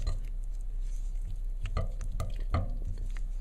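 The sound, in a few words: stirring melted chocolate with seed chocolate pieces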